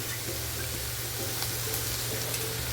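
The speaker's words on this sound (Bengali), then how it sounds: "টমেটোটা সফট হওয়া পর্যন্ত ভেজে নিতে হবে ভালোভাবে" Tomatoes fry in a pan for paneer bhurji, a close, steady sizzle with soft stirring scrapes and a faint low hum underneath. No voices.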